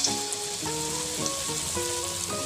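Stuffed pointed gourd (potol) chops sizzling steadily in hot oil, a close, continuous frying hiss with soft bubbling and a few tonal clinks over a constant bed of crackle, no voices.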